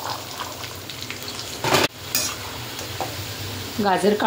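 Cauliflower and carrots frying in oil for a large batch of veg biryani, a loud close sizzle with a sharp burst of spattering, spoon clinks and stirring scrapes.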